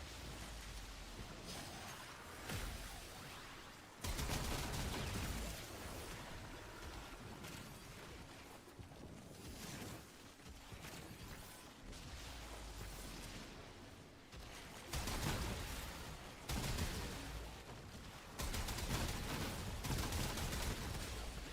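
Repeated flashbang explosions in a video game: harsh, noisy bursts crowding one another across the whole stretch, with several louder blasts standing out, all fairly quiet in level.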